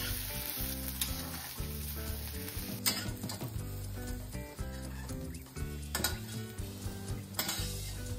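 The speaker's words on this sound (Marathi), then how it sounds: "त्यात कांद्याबरोबर लसूण देखील टाकून घेऊया। याला चांगला लालसर भाजायचा।" Chopped onion and garlic fry in a pan until reddish for a Maharashtrian masvadi rassa, crackling with a loud, continuous sizzle alongside stirring and pan clatter, with music playing underneath.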